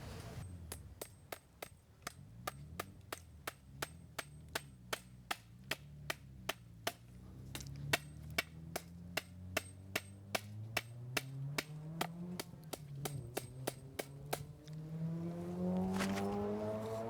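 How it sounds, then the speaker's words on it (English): Repeated sharp hammer strikes driving staples into a wooden fence stick, a steady rhythm of about three blows per second, close and crisp, slowing near the end before the tapping stops. "you're going to need staple and a hammer comes in handy"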